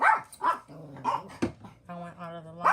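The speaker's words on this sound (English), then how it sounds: "Sorry for my dogs." Several dogs barking indoors, a series of close, loud barks and yips with short tonal whines between them, overlapping one another in quick bursts.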